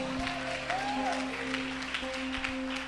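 A church congregation claps in steady applause under a sustained organ-like hum, moderately loud and continuous for a few seconds, with a voice faintly audible.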